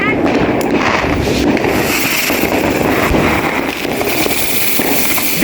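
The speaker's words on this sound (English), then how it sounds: "We lit the firework, and instead of exploding like it should, it just took off." A $20 firework launches and flies off instead of exploding, giving a continuous loud hissing, rushing roar with crackle and wind buffeting throughout, close to the microphone.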